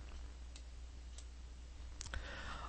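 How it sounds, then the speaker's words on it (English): Computer mouse clicks, a few sharp isolated ticks spaced apart over faint background hum, close and quiet. "what I'm going to do is click on OK."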